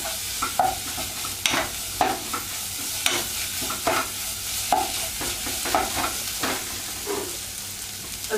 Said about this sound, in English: Turn the heat back up. You just want to cook it until you can smell the spices start releasing their scent.